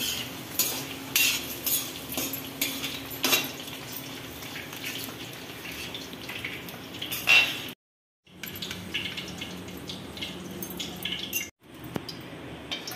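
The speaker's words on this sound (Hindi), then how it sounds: "परवल हमारा फ्राई हो गया है इसको निकाल रहे हैं" Pointed gourd fried for U.P. style potato and parwal curry being lifted out of the pan, with repeated metal spoon scrapes and clinks over a soft frying sizzle, interrupted by two brief silent gaps, no speech.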